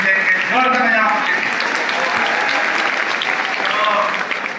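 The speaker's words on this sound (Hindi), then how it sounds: "जोरदार तालियां बजाइए" Loud, sustained applause from an audience at a polytechnic college event fills the room, dense and steady throughout, with voices audible over and under the clapping.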